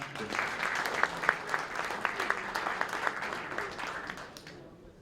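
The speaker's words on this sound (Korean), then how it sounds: "박수로 모시겠습니다" An audience claps steadily throughout, a dense burst of applause that fades slightly toward the end, with some murmuring underneath.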